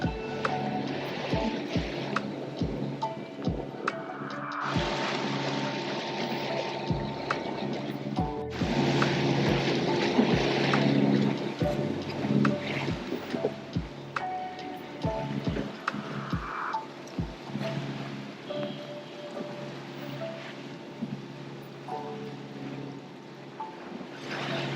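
The sailboat Marysol's engine drones steadily at sea under way during a delivery passage, a constant close hum with water washing along the hull and a string of regular low thumps.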